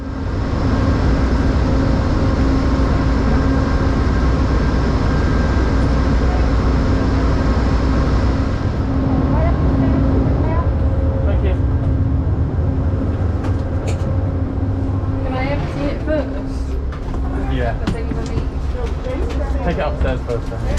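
Steady rumble and rattle inside an Amtrak California Zephyr double-decker Superliner train while riding, a loud constant drone with clicks and creaks, talk heard over it.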